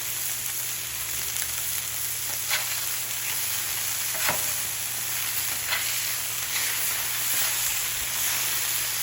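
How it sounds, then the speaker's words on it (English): Buttered burger buns toast on a 36-inch Blackstone griddle, giving a steady, close sizzle and frying hiss with faint crackles throughout and no talking. "go ahead and get our buns toasted."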